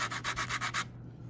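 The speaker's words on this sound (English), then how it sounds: "Now I take my sandpaper and I'm just going to rub it, stay 90 degrees straight up and down. And I'm going to start sanding it." A balsa wood stick is rubbed with sandpaper, held straight up and down, giving about six quick, rhythmic scratchy strokes, close and fairly loud, that stop abruptly with no talk.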